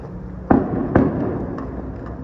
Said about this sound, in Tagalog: Ay, grabe yung putukan.